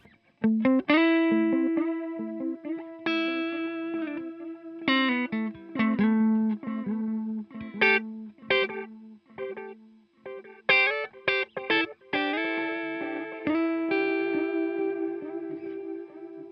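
Electric guitar played through an IK Multimedia X-Time delay pedal, short melodic phrases and chords trailing into modulated, stereo-spread echoes that repeat and fade between notes.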